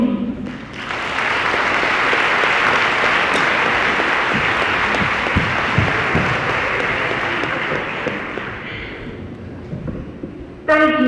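A school auditorium audience breaks into loud, sustained applause after a high school dance performance, dense clapping holding for about ten seconds before fading, with a few cheers mixed in.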